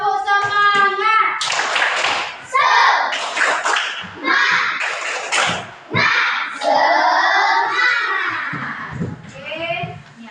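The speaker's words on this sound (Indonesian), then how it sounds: "kita tepuk semangat dulu ya" Children's rhythmic spirit clap in a primary school classroom, loud and close, with quick bursts of patterned clapping mixed with chanted voices and shouts throughout.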